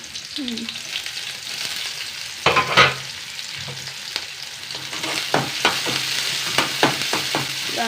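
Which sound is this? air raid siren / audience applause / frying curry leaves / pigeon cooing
frying curry leaves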